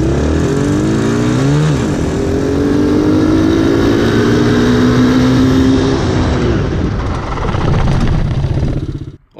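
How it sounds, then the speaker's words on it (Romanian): Two KXD ProS Lemon 125cc ATVs run loud and close, engines droning and revving steadily, then braking hard to a stop as the engine noise cuts out at the end. "o să frâneze ambele frâne față-spate puternic dintr-o dată și vom vedea diferența de frânare la oprire"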